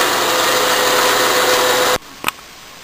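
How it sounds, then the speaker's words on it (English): Milling machine in back gears reaming a 13/16 hole at slow speed: a loud, steady mechanical whine and hum that cuts off abruptly near the end, followed by a brief clunk. "I'm reaming 13/16, and the machine is in back gears running at slow speed"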